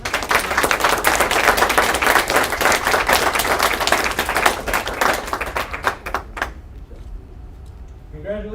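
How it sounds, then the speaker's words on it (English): Graduation ceremony crowd for UCT Class 21007 giving steady, dense applause for about six seconds, then the clapping thins to a few scattered claps and fades. A voice speaks briefly near the end. "let's give one more warm round of applause for class 21007"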